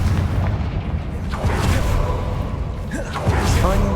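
The Confringo fire spell in the video game Hogwarts Legacy bursts into heavy booming blasts and whooshes over a dense, constant din of combat effects.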